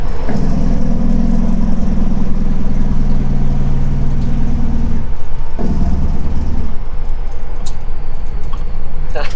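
Cab interior of a 1982 Freightliner cabover truck, its diesel engine droning loudly and steadily with a deep low rumble throughout, briefly dipping and changing pitch near the middle as it keeps running.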